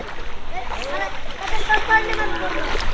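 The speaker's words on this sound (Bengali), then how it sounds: "পানি পাড়ায় পাড়ায় যাইতে হইতেছে" People wade through flood water between village neighbourhoods in Netrokona, Bangladesh, with close splashing and sloshing steps under ongoing talk.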